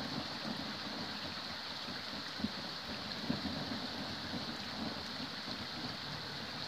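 A thunderstorm pours steady rain in a continuous hiss, with faint low rumbles of thunder and a few soft cracks scattered through.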